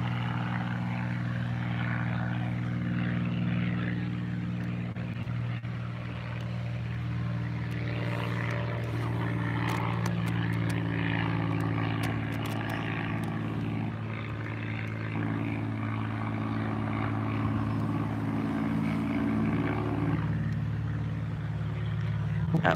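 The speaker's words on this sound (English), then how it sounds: "Oh, you got airplane with the banner coming." A propeller airplane towing a banner flies overhead along the Belmar, New Jersey shore on Memorial Day, its engine drone steady and fairly loud throughout, with light background noise and no talk.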